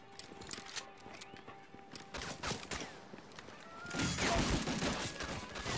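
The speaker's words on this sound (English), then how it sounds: "Oh shit, exploded barrels, yeah." Barrels blowing up in the war shooter Medal of Honor Frontline, a swelling roar of explosions over steady gunfire and battle clatter, loudest toward the end, with no speech.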